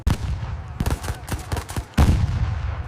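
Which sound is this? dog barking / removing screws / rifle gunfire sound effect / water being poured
rifle gunfire sound effect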